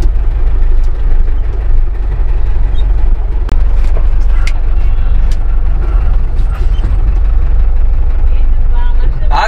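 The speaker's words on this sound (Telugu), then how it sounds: "ఇప్పుడు వెనకాల బస్సు వచ్చింది" A bus drives along a forest road in the Cumbum area, its engine a loud, steady rumble throughout with occasional sharp clanks and rattles, while voices talk over the din.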